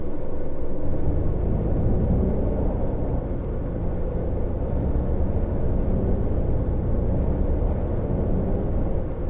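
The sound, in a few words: MAN coach engine in bus simulator video game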